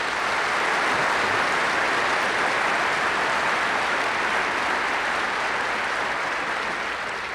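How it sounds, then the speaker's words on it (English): Sustained applause from a lecture audience at a College of Science event, steady and loud throughout and slowly tapering at the end, with no talking over it. "I would like to ask everybody to give them a big round of applause."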